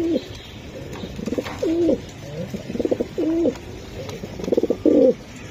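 A black-checker female racer pigeon coos in a series of close, throaty rolling calls, several distinct bursts spaced about a second apart over quiet background.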